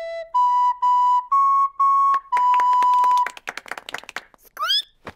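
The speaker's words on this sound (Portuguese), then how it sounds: "Escutem, eu vou tocar uma flauta." Flute played in a Peppa Pig cartoon, a short run of clear sustained notes stepping upward with one longer held tone, followed by clapping and a brief cheering voice.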